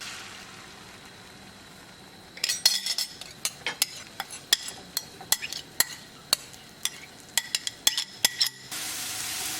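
A utensil beating eggs in a bowl for lobster scrambled eggs, a quick series of sharp clinks and taps against the bowl after a quiet start, close and steady.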